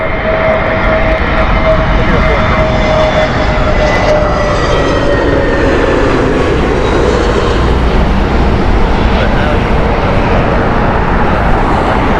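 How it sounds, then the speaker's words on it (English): A British Airways jet airliner arriving at Heathrow Airport gives off a loud, continuous roar with a slowly falling whine, steady for the whole stretch, with no one talking. "Corfu flight here from British Airways Speedbird 649 Foxtrot is inbound now."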